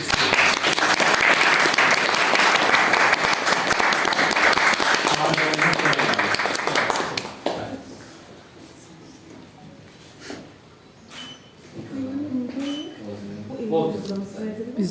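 Wedding guests at a civil marriage ceremony break into loud, dense applause that lasts about seven seconds, then fades into quieter room sound with some talking afterward.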